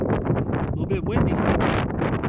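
Heavy wind buffets the microphone on a mountain overlook in Big Bend, Texas, a loud steady roar with gusty rumbling throughout.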